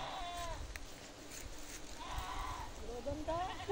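Faint goat bleats, a few wavering calls at moderate distance over a soft background hiss.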